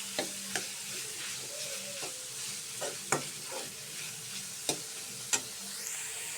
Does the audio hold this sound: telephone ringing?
no